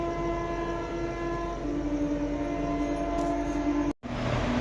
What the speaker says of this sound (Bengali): ওইদিকেও একটা মালগাড়ি যাচ্ছে।